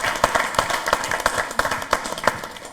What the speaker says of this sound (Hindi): तो अनामिका जी का जोरदार तालियों के साथ स्वागत कीजिए।